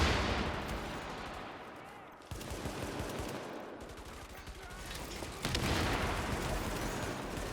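Sustained automatic gunfire during a power plant challenge mission in The Division, loud rattling bursts of machine gun fire that surge twice, with voices talking underneath.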